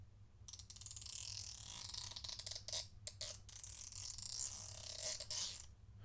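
A notchy ratchet turns with a steady, gritty clicking and rasping, broken by a few brief pauses, close and fairly quiet.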